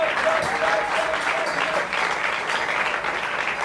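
A church congregation claps and cheers for the Lord in steady, sustained applause with a crowd wash, filling the room without pause.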